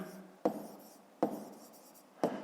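A pen writing on paper during a fifth-grade math exercise: three short, close scratching strokes, each starting with a sharp tap and trailing off, spaced evenly with quiet between them.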